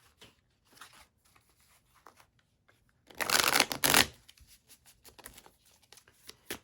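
Tarot cards are shuffled and split by hand, one loud close riffle burst in the middle with faint card handling and soft shuffling rustles before and after.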